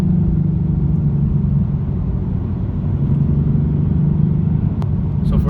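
A Nissan 370Z with its muffler deleted runs in second gear, a loud, deep, continuous exhaust rumble that stays dense and steady at high revs.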